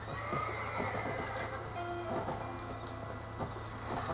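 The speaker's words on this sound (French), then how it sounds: "j'ai choisi la monture trotteur américain parce que avec les chevaux vous pouvez sauter" An American Trotter horse in the Red Dead Redemption video game whinnies and moves over steady game ambience, with soft hoof and movement sounds under a continuous background bed.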